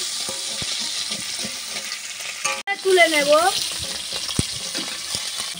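Small fish sizzle steadily in hot oil, a continuous crackling fry close by, with a brief clatter and a short spoken remark partway through.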